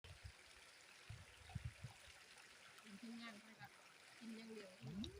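A forest stream flows with a steady, soft wash of moving water while people talk nearby over it.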